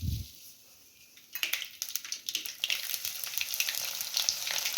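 Mustard seeds land in hot oil and crackle loudly, with fast irregular popping and sizzling that keeps going after a short quiet start, close and busy.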